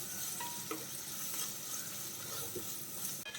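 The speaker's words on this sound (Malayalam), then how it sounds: "ഇനി നന്നായിട്ടൊന്ന് വഴറ്റിയെടുക്കാം." Onions sautéing in a pan with added salt for an egg curry, a steady close sizzle with soft stirring scrapes and small clinks throughout, no voices.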